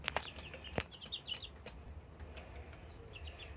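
Baby chicks in a coop give sharp, high chirps and peeps in scattered bursts, with a few soft clucks and some wing flutters, fairly near and moderately loud, with no talking.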